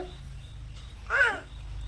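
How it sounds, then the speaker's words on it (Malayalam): A single crow gives one short caw partway through. It is moderately distant and rises over a steady low rumble of background hum. "ഏയ് കാക്കച്ചി ഇവിടെ കാക്കച്ചി"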